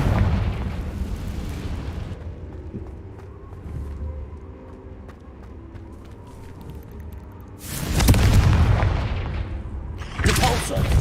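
A Confringo blast spell cast in the Hogwarts Legacy video game: two loud, close explosive bursts, the second shorter, follow a stretch of low rumbling game ambience.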